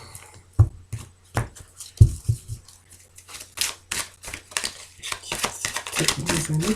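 Tarot cards being cut and shuffled by hand for a sentimental reading: a run of crisp card slaps and riffles, loud and close, with a few sharp knocks early on and a murmuring voice underneath.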